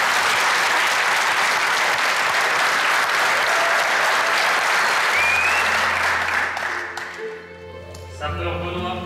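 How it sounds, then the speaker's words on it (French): A large audience gives firefighters sustained, loud applause. It thins out near the end as a voice and music come in. "mesdames, messieurs, merci de les applaudir"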